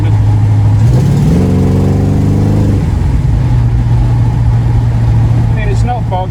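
A car engine accelerates after a timing adjustment, its tone rising steadily for a couple of seconds before settling back to a steady drone, loud and close throughout.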